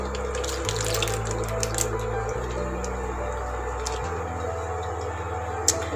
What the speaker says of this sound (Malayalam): ഞാൻ ഡയറക്റ്റായിട്ട് പാലൊഴിച്ച് കൊടുക്കണം.